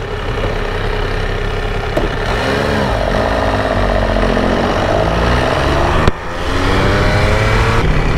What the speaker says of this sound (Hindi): तो अब हम चलाने जा रहे हैं अपनी अगुस्ता F3।